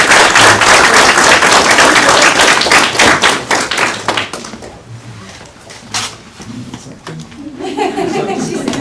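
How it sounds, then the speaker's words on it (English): Loud applause and clapping from a school board meeting audience for Cameron and Ms. Weatherford, dense at first then thinning out into scattered claps, with voices and shuffling underneath. "How about a big round of applause?"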